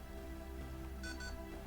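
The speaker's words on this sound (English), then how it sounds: "you hear two beeps" Two short electronic beeps from a Feiyu VB4 phone gimbal after a long press of its dial button, faint and close, over a steady low hum.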